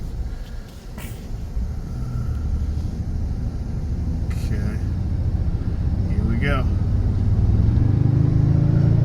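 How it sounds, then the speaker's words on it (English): A 1794 Limited Edition vehicle accelerates from a turn, its engine rumble swelling steadily louder over several seconds while a person talks over it near the start. "I'll make this turn and get it up to 50, and you can see how it sounds"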